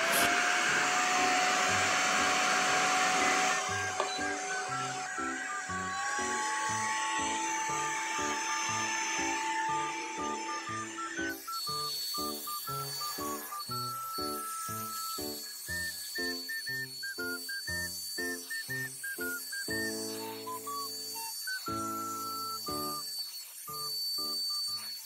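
A Simplus wet and dry vacuum cleaner whirs at close range for about 25 seconds. Its tone shifts partway through, and music plays alongside it with no talking.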